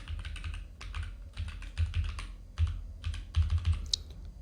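Fingers type a password on a computer keyboard in quick, uneven bursts of close, crisp key clicks with short pauses between groups.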